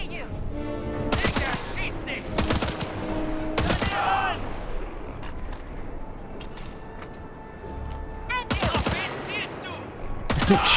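Bursts of automatic gunfire in a video game, several sharp rapid volleys separated by gaps, with in-game voices and a player talking between the shots.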